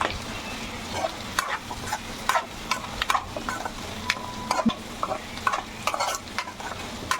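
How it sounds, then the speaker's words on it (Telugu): Previously fried chicken pieces stirred into fenugreek leaves cooking in oil: a soft continuous sizzle with frequent sharp spatula clacks against the pan, close and without any talk. "ఇప్పుడు ఇందులో మనం ముందుగా ఫ్రై చేసుకున్న చికెన్ పీసెస్ వేయాలి"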